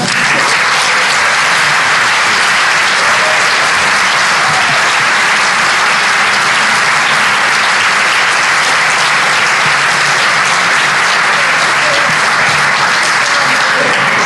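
A large lecture audience at Harvard University gives a loud, dense, continuous round of applause welcoming Charlton Heston, sustained evenly throughout with no voices over it.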